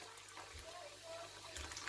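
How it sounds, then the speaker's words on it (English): Hot water from a kettle is poured over chicken in a pot, a soft continuous splashing and gurgling stream that stays low and steady throughout. "I've got hot water here at the kettle. And I'm just going to pour this in now."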